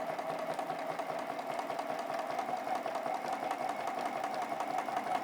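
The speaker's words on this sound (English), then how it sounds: "And then I'll stitch right back along that corner triangle." A sewing machine stitches a Glitter Star quilt block, running back along a corner triangle. It gives a steady, even mechanical hum with fine rapid pulsing throughout, and no one speaks.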